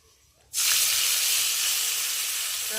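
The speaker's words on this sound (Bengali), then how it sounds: "আর এখন আমি মাছগুলোকে দিয়ে ভেজে নেব" Small mourala pond fish drop into very hot oil, setting off a sudden loud burst of sizzling that holds as a steady, close, bright hiss.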